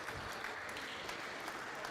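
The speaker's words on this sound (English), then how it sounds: "A little trickle of applause." Light, sparse applause from a squash crowd at a European individual championship match, a thin steady patter of clapping with no cheering.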